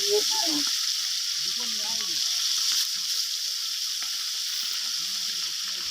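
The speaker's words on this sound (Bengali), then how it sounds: "দেখুন কত বড় বড় মাছ ভাজি চলছে, মাছগুলো ভেজে নিচ্ছে কত সুন্দরভাবে" Large fish seasoned with salt and turmeric fry in oil at an outdoor village cooking spot, a steady hiss of sizzling running throughout while a voice speaks intermittently over it.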